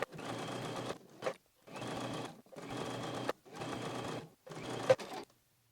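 A sewing machine stitching a synthetic fabric tube in five short bursts of rapid mechanical whirring, each about a second long, separated by brief pauses, close and clear with no talking.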